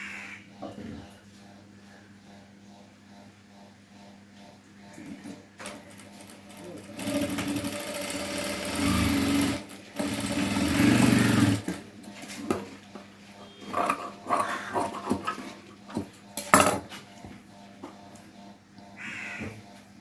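A sewing machine stitches fabric pieces together for a cloth flower, its motor whirring loud and steady for several seconds in the middle, with quieter stop-start runs and handling clatter around it, and crows cawing faintly in the background.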